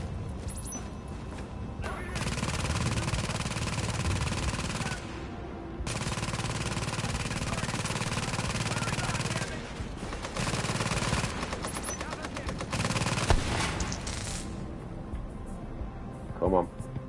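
A purple LMG in The Division on PS5 rattles out long sustained bursts of machine gun fire, several strings of rapid shots separated by brief pauses, loud and close over background combat noise.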